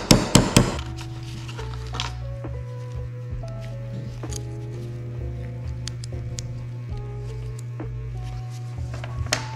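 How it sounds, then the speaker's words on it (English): A hammer knocks a pin out of the trigger of a Stihl Farmboss 271 chainsaw, with a quick cluster of sharp metallic taps at the start and a few lighter knocks over a steady low hum. "I'm gonna hammer that pin out and then should free up this trigger"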